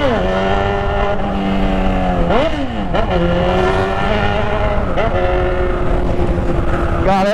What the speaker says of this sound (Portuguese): Depois que eu tirei o escapamento da Hornet